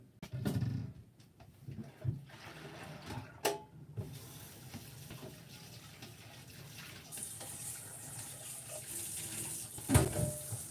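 A kitchen sink tap runs while boiled poke greens are drained and washed, a steady faint stream broken by clatters and splashes of handling, with a few sharper knocks near the start and end.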